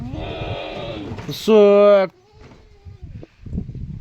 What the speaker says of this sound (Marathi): खूप छान बोकड आहे.